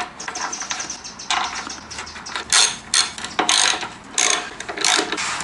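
A ratchet tightens the front brake caliper bolts on a Kawasaki Versys 650 during a pad change, producing several quick bursts of close, crisp pawl clicks separated by brief pauses.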